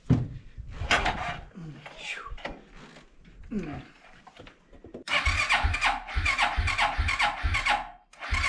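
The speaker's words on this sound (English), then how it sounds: "Give the old pull cord a tug or two." A Suzuki King Quad 300 ATV is pull-started by hand, with repeated cord yanks and a squealing, grinding crank under heavy compression that pulses in quick rhythmic strokes. Someone talks during the opening seconds.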